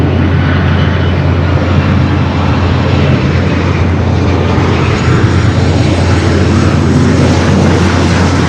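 An airliner arriving from Seattle lands at Los Angeles LAX, a loud, steady engine roar holding close and constant throughout with no speech.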